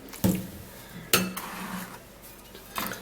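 Food is washed in a bowl: sharp clinks and knocks of utensils against the dish sound at irregular intervals over quiet stirring and splashing.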